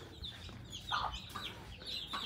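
Chickens and roosters kept out back on a home property cluck in short, scattered bursts, faint and at a moderate distance, with no talk over them.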